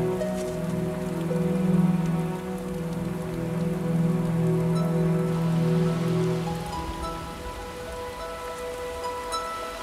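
Steady rain falls in the African highlands at around 4,000 metres altitude, a continuous patter heard alone with sustained low musical tones beneath it.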